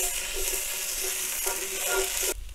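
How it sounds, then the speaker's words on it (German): Tomato paste roasting and sizzling in a Dutch oven, a steady close frying hiss with faint stirring scrapes, cutting off abruptly near the end. "Das rösten wir uns jetzt kurz mit an."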